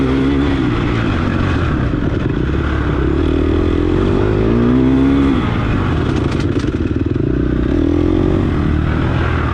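Dirt bike engine roaring loud and steady on a smooth off-road track, a second rider's motorcycle close behind, with pitch rising and falling as throttle changes throughout.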